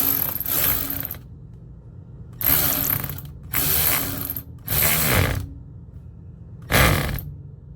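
Ratchet tightening the adjustment on an RV's electric BAL Accu-Slide slide-out, giving five close, loud runs of rapid clicking, each lasting about a second, with short low-level gaps between strokes.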